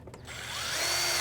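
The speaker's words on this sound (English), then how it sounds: "See if we can get a screw on the outside here." A power drill drives a screw into standing seam metal roof flashing on a rake edge, the motor whining steadily and rising in pitch over a brief, close, continuous burst with no talking.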